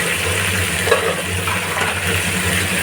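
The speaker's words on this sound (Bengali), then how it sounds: "তেলের মধ্যে একটু সবজিগুলোকে ভেজে নিলাম।" Vegetables for shukto fry in hot oil, a steady close sizzle running unbroken throughout with faint stirring.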